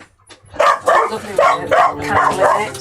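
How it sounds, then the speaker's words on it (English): Several dogs bark repeatedly and loudly in quick succession indoors, with a few yips mixed in, while someone talks over them. "Sorry about the dogs."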